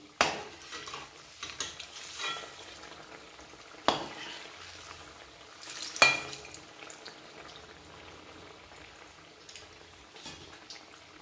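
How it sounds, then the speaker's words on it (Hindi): Gulgula sweet fritters fry in a pan with a soft, steady sizzle, broken by a few sharp clinks of a utensil, all fairly faint and with no voices. "गुलगुला के 2 साइड लाल हेबा जाए छाणीबा।"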